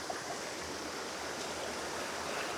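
A river stream flowing past close by, a steady broadband rushing and gurgling wash of water that stays even and unbroken throughout, with no voices.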